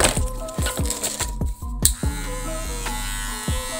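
A Monster cordless hair clipper fitted with a taper blade runs with a steady close buzz, interrupted by a few sharp clicks and brief dips in the hum.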